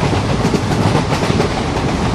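An Indian train on the Visakhapatnam route in Trainz Simulator rolls along with a loud, steady rumble and faint wheel clatter, with no voices.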